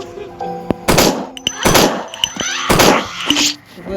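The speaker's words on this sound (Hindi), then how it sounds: "तो ऐसी शॉटगन से मरेगी।" A shotgun fires in the horror game Endless Nightmare 2: Hospital, with three loud, close blasts about a second apart, each trailing into a harsh, moaning decay amid clanks and short game effects.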